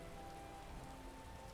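Rain in Skyrim patters as a steady, soft hiss of drops on surfaces, even and unbroken from start to finish, with a faint low tonal hum underneath.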